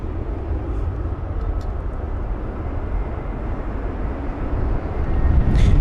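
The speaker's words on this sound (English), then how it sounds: "So here's the Virgin Atlantic aircraft" A Virgin Atlantic airliner lands at London Heathrow in windy conditions, giving a steady low jet rumble mixed with wind noise that builds louder toward the end.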